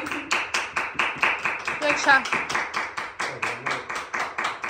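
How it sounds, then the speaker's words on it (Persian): Hands clap in a steady, quick rhythm at a birthday celebration, about four claps per second and fairly close, while voices talk and cheer underneath. "یک دو سه تشویق کن"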